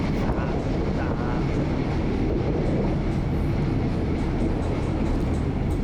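Local train 426 rolling into Hin Dat station, a loud, continuous low rumble and roar of the railcar heard from on board, steady throughout with no clear pauses.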